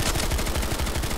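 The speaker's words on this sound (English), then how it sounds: "Who the heck is shooting at us?" Dense, continuous gunfire from the video game PlanetSide 2, rapid overlapping bursts forming a steady loud rattle with no talking.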